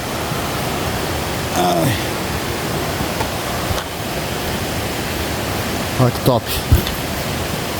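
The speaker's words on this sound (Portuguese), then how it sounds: "cheguei na cachoeira aí, Cachoeira Rio Silveiras" Waterfall at Cachoeira Rio Silveiras, on Tupi-Guarani indigenous land, producing a steady broadband rushing roar that runs unbroken through the whole stretch, with someone speaking briefly over it.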